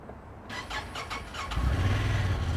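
A side-by-side UTV engine cranks in a few quick rhythmic pulses, then catches and settles into a steady, close, loud idle.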